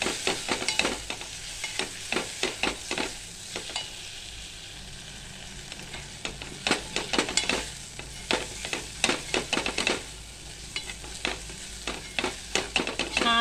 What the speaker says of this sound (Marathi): आता हे पण आपण चांगलं परतून घेणार आहे.